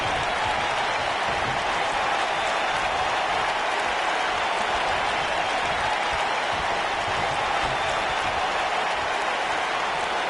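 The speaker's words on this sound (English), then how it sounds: "the crowd's on the edge of their seats." Arena crowd in the WWE 2K19 wrestling game roaring and applauding continuously during a no-rules free-for-all match, a dense, steady wash of cheering noise.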